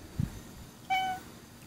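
A neighborhood cat gives a single short meow at close range, lasting about a quarter second, with a brief faint sound just before it and quiet around it.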